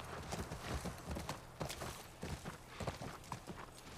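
Horse hooves clip-clopping in the video game The Last of Us Part 1, a quiet, uneven series of hoofbeats at walking pace, soft and somewhat distant, with no talk over it.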